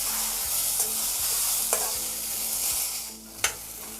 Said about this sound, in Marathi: आता परत आपण 2 मिनिट टोमॅटो आणि कांदा लसूण शिजवून घेऊया